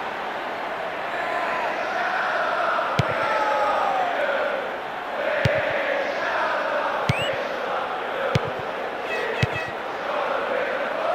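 Stadium crowd in the football video game PES 2020 during a Manchester United versus Southampton match, a steady broad roar with swelling cheers and whistles throughout, sharp clicks punctuating it and a commentator's voice faintly underneath.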